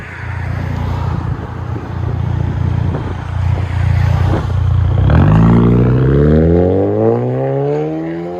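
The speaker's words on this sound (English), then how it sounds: "VW Passat straight pipe turbo TSI." A straight-piped 2015 VW Passat TSI turbo sits idling loud and near, then its exhaust revs up with a rising, rasping engine note that holds high before easing.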